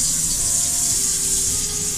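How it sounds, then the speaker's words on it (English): Cold tap water runs into a cooking pot, a steady and even hissing rush that lasts throughout before cutting off abruptly at the end. "Fill this pot with water."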